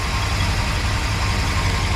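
Car engine running at idle during electric radiator fan relay wiring work, a steady low rumble holding constant throughout with no talk.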